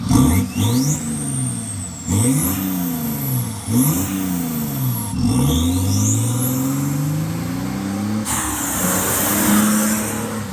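A BMW twin-turbo diesel car with a Stage 2 tune accelerates hard through several gears, its engine note climbing in repeated loud surges with a rising turbo whine and brief drops at each shift, heard from inside the car.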